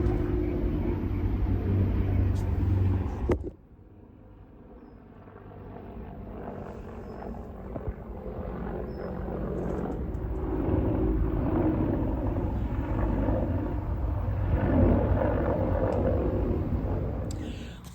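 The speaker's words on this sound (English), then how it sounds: "I think they look like Apache helicopters to me" Apache military helicopters pass overhead, a sustained low rumbling drone that swells and holds steady for several seconds after an abrupt cut, with faint background voices underneath.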